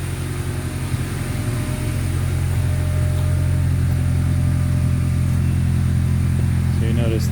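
A 2003 Honda Accord DX sedan with a Magnaflow exhaust idles steadily at about 1200 rpm, a low continuous droning hum with a deep throb, close and constant throughout.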